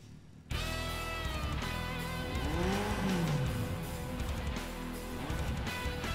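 Car engines and squealing tires in the Perfect Dark Zero video game, a steady loud engine roar with a swooping skid-like pitch sweep in the middle, continuous over the whole stretch with no talking.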